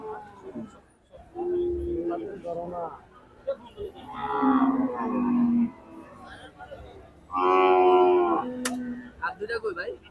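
Cattle at a post-Eid livestock market in Hazratpur low loudly and repeatedly in long, deep moos close by, with people talking in between.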